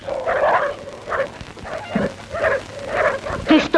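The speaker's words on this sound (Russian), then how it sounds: "Ты что тут делаешь, проклятый пес?" A dog in an old Russian drama film gives a series of short yipping barks and whimpers, about six bursts in a row, fairly close and clear.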